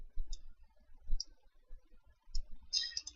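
Faint, close computer mouse clicks in a quiet room, a few sparse single clicks followed by a quick cluster of clicks at the end.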